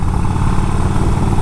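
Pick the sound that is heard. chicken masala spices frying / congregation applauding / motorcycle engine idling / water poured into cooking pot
motorcycle engine idling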